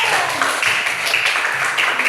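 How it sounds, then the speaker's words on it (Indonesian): Schoolchildren in an elementary classroom clapping briefly for a group of classmates, a short burst of close, overlapping hand claps with faint voices underneath. "Tepuk tangan untuk kelompok 1"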